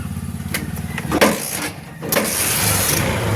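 A Honda Supremo motorcycle fitted with a piston-type carburetor idles with a throbbing engine note, then revs up twice in quick bursts before settling back, heard up close.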